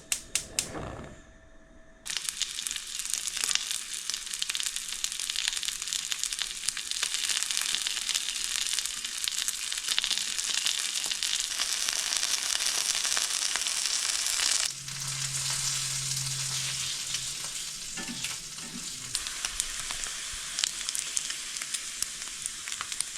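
Filipino tapa fries in a pan with a loud, dense, crackling sizzle that starts abruptly after a brief clatter, continues steadily close up, and later eases slightly while a short low hum sounds underneath.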